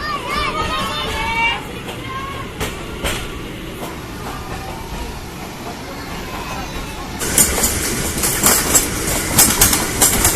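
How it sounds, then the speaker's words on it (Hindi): A Pakistani railway passenger train running at full speed, heard as a steady rolling rumble and rattle of the carriages, with voices and chatter over it and a louder, brighter clatter in the last few seconds. "अभी ट्रेन ने पूरी स्पीड खींच ली है"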